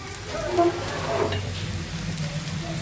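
Okra frying in a pan on a home kitchen stove, a steady soft sizzle and crackle like light rain, heard close and continuous with no talking.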